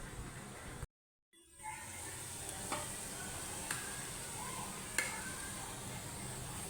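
Onion roasting in a pan for Kolhapuri masala, a faint, even sizzle and hiss with a few light clicks of a utensil, broken by a brief silent gap near the start.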